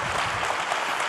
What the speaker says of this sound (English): Can you applaud, please, Captain Jérôme, for this talk?